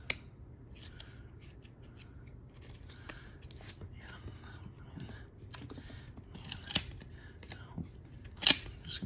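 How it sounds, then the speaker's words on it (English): Crisp crackling and rustling as 1994 Traks NASCAR trading cards are peeled apart one by one, close and fairly quiet, with scattered sharp clicks and a low background hum. "Gonna start peeling them off like this"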